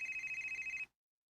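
A cellphone rings with an incoming call, a steady repeating electronic tone pulsing in quick even beats for under a second before cutting off abruptly, close and moderately loud.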